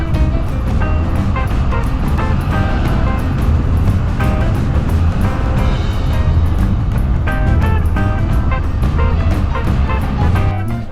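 A full-size truck crawls through a sandy desert wash in Anza Borrego's narrow canyons, its engine a steady, loud drone with rattling and crunching throughout, close and continuous.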